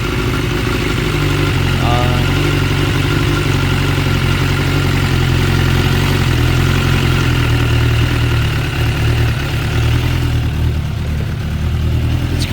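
A 2006 Suzuki GSX 600F Katana with carburetor trouble runs with a loud, steady low engine drone close by, holding a fairly even note with little sign of sharp revs.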